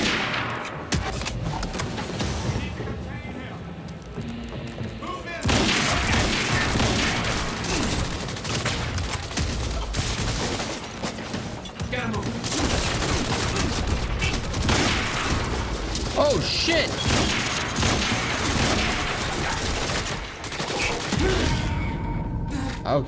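Sustained gunfire and combat noise from the video game Quantum Break, loud and dense throughout with bursts of shooting layered over game effects and music, briefly dropping around the fifth second before resuming.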